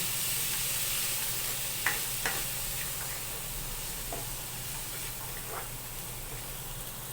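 Java rice being mixed in a hot pan gives a constant loud sizzle and hiss, with a few sharp clicks of a utensil against the pan, no voices.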